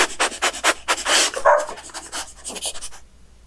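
Rubbing, panting dog sounds from petting a dog in the video game Gym Simulator 24, a quick run of soft rhythmic bursts that stops after about three seconds.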